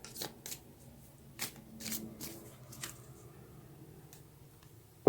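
Tarot cards shuffled by hand in a quiet room, giving several short riffling bursts with brief pauses between them and a sharper knock at the very end.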